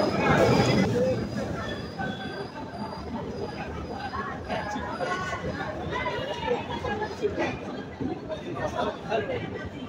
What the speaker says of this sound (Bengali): আমাদের 795 বেনাপোল এক্সপ্রেস ট্রেনটি কিন্তু ঢাকার উদ্দেশ্যে কুষ্টিয়া কোর্ট রেল স্টেশন ছেড়ে গেল